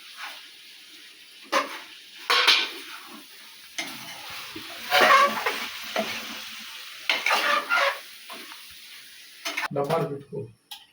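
In a chicken curry, tomatoes sizzle and fry in a pan and are stirred in several scraping bursts, each a few seconds long, with a soft sizzle between them. The cooking is close and fairly quiet.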